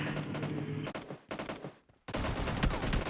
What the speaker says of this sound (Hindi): तभी इधर से गन साउंड की आवाज़ सुनाई दी